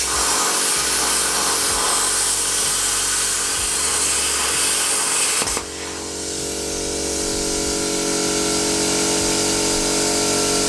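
A plasma cutter slices through metal, a loud, harsh, continuous hiss that runs steadily for several seconds. It breaks off abruptly midway, then resumes as a lower, steady hissing whine.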